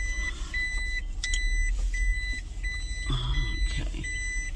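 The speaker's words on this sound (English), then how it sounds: "okay, trying to park" A loaner car without a backup camera parks in a lot. A steady engine hum runs under repeated electronic parking beeps, and a few brief clunks come near the end.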